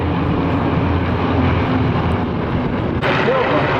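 Airplane at the Oshkosh airshow, with a radial engine on the right side, flying past: a loud, steady engine drone close by that roughens and shifts as it passes, under crowd and wind noise.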